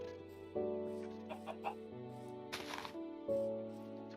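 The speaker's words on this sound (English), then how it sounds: "There's 2 chickens." Chickens in the Minecraft video game clucking, with a few short bird calls over a steady droning game music bed, close and moderately loud.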